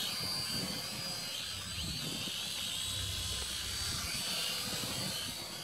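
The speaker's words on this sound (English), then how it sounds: "I'm full throttle and it's barely moving." A World Tech Toys Striker spy drone at full throttle outdoors in a slight breeze: a steady, high, buzzing whine of small motors that holds close and fairly loud throughout, with no talking.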